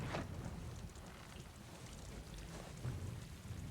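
Thunder rolls through a rainstorm in a fantasy drama scene, a low rumble over steady rain with a heavier swell near the start and another toward the end, no voices.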